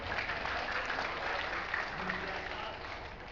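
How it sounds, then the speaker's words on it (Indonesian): A crowd at a live stage event in Bandung claps steadily in a continuous, moderately quiet round of applause with faint voices mixed in. "Bagi applause kepada dokter"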